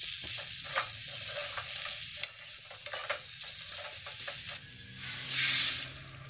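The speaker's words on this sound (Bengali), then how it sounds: "খুব ভালো করে এবারে নেড়েচেড়ে সমস্ত কিছু কষিয়ে নিতে হবে।" Fried mixed vegetables being stirred and sautéed in spice paste in a pan, a steady sizzle under repeated scraping strokes of a spatula, with a louder hissing burst near the end; no talking.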